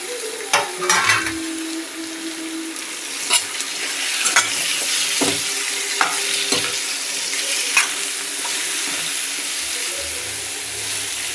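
Chicken fries with golden onions in a loud, close sizzle, while a spoon stirs and scrapes the pan in irregular knocks and clatters throughout.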